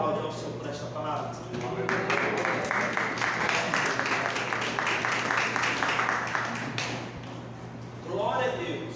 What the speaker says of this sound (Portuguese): Quantos podem aplaudir ao Senhor por esta palavra?